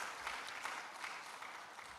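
Applause from a conference audience at a climate resilience and rural transformation event, a steady patter of many hands clapping at moderate distance for about two seconds, with no voices over it.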